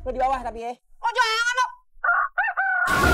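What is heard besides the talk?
rooster crowing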